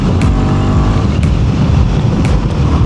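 A Royal Enfield Guerrilla 450 single-cylinder motorcycle with ride-by-wire throttle being ridden, its engine roaring loud and steady with a constant rumble and rush throughout, and no talking.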